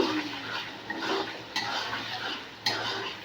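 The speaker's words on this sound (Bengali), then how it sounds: "দিয়ে এটাকে ভালো করে নাড়াচাড়া করব" Spiced egg and masala stirred in a pan for chilli chicken, a steady scraping and clinking of a spoon against metal with soft sizzling underneath and a few sharper knocks, close and fairly quiet.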